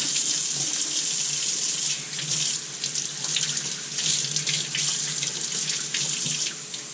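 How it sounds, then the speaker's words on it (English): A kitchen tap runs steadily as pepper seeds are rinsed out of green peppers for picadillo, with the water spattering in the sink for the whole stretch and no one speaking. "So I'm going to rinse out all these seeds, because you definitely don't want those inside your beef."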